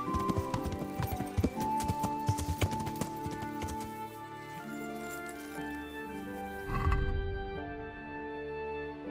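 Horse hooves clip-clop in the medieval game Kingdom Come: Deliverance, a steady close clatter of steps set over music, with one louder thud near the end.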